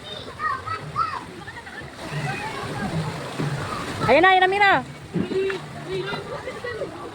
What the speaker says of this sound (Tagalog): antayin mo matapon yung tubig.